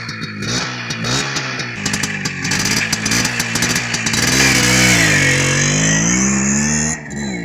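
A Minsk 125 or Bajaj Boxer 150 motorcycle rides past at close range, its engine note rising and falling through revs and gear changes, loud and continuous with harmonic drone and a brief dip near the end.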